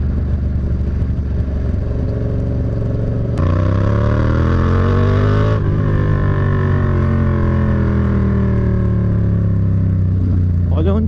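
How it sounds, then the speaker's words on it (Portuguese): Car engines drone steadily near the lighthouse at Morro dos Conventos on a hot, sunny July day, a loud, continuous close-up rumble with a brief shift in pitch partway through. "Olha onde tem carro aqui, galera. É muito carro."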